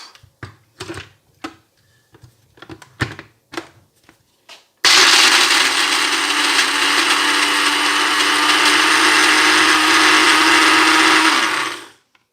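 A food processor chops ingredients for homemade cereal bars. A few short clatters and knocks come first, then the motor kicks in with a loud, steady whirring roar for several seconds before cutting off.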